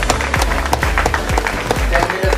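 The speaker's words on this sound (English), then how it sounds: "We're gonna take a big applause for them" Applause from the audience at the San Diego Startup Week launch in Tijuana, close, sharp claps with heavy low thumps in a steady rhythm, as if near a microphone.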